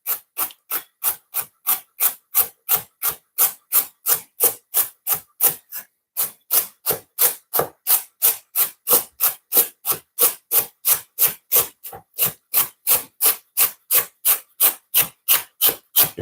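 Knife chopping washed celery on a cutting board, a fast, steady run of crisp, even strokes for about sixteen seconds with one brief pause, close and clear with no talk.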